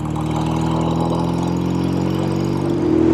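A motorcycle engine runs steadily close by, a loud, even mid-pitched drone that swells slightly near the end, with no talking.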